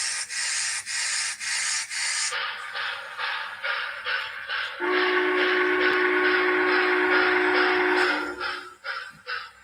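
Model train locomotive sound decoder running in reverse on a layout: rhythmic chuffing or scraping bursts, then a sustained whistle-like tone over steady rolling noise, fairly faint and without talking.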